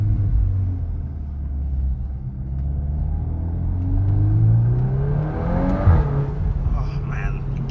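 Engine of a 2024 VW Golf 8 R Performance Pack with 320 PS and a DSG gearbox rises steadily in pitch as it revs toward redline, a loud sustained drone with a brief shift bump near the end.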